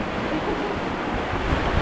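On a water rapids ride at the PortAventura theme park, a boat moves through rushing water with a steady, broad roar that sounds like wind across the microphone.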